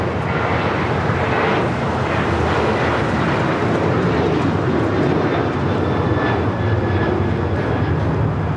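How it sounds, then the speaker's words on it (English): A United Airlines Boeing 737-800 jet roars loudly and steadily as it takes off from LAX, a dense, continuous engine rumble filling the whole stretch with no voices. "319 taking off to Puerto Vallarta on the 737-800."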